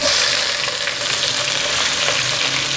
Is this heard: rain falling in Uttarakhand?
no